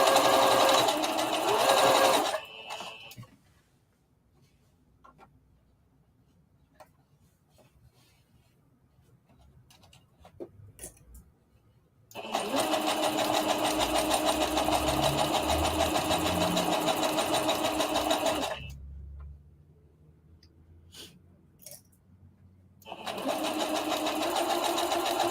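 A sewing machine stitches a circle dress in three loud, fast-running bursts, the first brief and the next two longer, split by near-quiet gaps in which fabric is handled.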